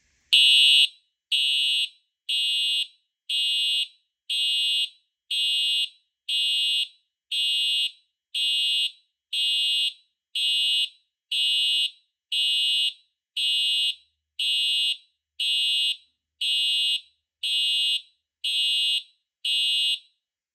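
A loud Simplex TrueAlert fire alarm sounds in a steady pulse pattern, short harsh bursts repeating about once a second with brief silences between them.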